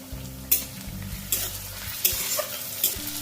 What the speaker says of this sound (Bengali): একটা তেজপাতা দিয়ে দিলাম, কেটে রাখা টমেটো দিয়ে দিলাম